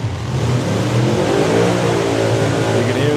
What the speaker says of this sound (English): You can hear him revving up.